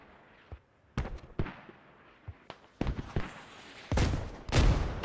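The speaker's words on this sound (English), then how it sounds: "The rocket barrage coming in." Rocket barrage in the tactical shooter Squad, a series of sharp blasts and booming impacts, scattered at first and then heavier and deeper toward the end, heard alone.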